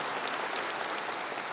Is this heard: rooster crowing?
no